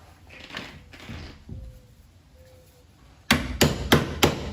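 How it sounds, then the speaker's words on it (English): A brass hammer strikes the rear brake rotor of a 2006 Chevrolet Impala during a rotor replacement, four sharp metallic blows in quick succession near the end after quieter shop noise. "Where's that brass hammer?"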